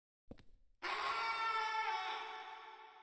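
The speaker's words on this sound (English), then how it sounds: "Now that scream seemed more believable of him in pain" In the video game Silent Hill 4: The Room, a man screams in pain, a sustained loud cry that starts abruptly after a few short grunts and slowly trails off.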